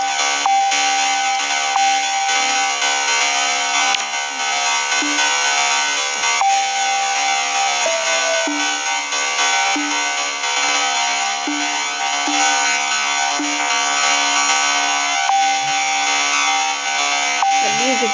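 Corrupted Wii BIOS menu music from a video game console, a loud, continuous glitchy droning of repeating buzzy tones that shift in pitch every few seconds, with no talking over it.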